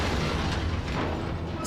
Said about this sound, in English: An amazing explosion.